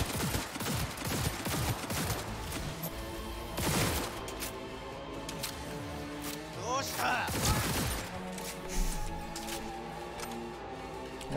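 Pistol shots in the video game Cyberpunk 2077, a series of sharp bursts at medium range mixed into busy game audio and music, with a voice talking over parts of it.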